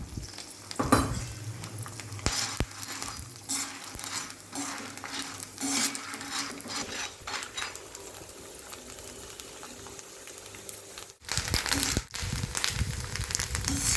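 Peanuts deep frying in oil, a soft bubbling sizzle with repeated scraping stirs and clinks of a utensil against the pan, then a sudden louder burst of frying as more go in.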